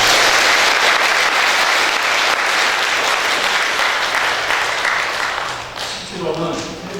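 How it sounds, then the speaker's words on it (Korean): A church congregation at a Sunday service applauds students after their performance, a dense, loud wash of clapping that thins near the end as a voice begins speaking. "우리 학생들이 다시 한번 박수 한번"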